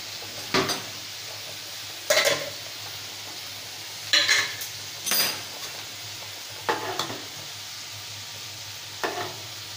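Fish cooking in a pan with tomato, potato, onion and green chili, sounding as a steady soft sizzle broken by several sharp stirring scrapes and clatters against the pan, close by, with no talking.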